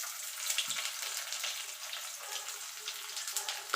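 Onions sizzling lightly in a pan for everyday masoor lentil dal with onion and garlic, a steady soft hiss and crackle that stays even throughout with no voices.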